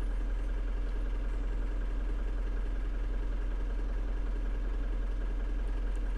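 A city bus, route 110 in Berlin, idles in the OMSI 2 bus simulator game, giving a steady low engine drone with faint mechanical clatter and no talking.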